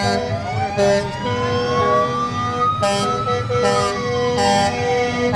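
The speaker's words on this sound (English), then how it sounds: "This is the municipality of Oliver Papoonge Fire Department coming through. Sirens blaring." A fire truck siren wails loudly in a night parade, its pitch rising and falling over a deep engine rumble, punctuated by short bursts of a blaring horn.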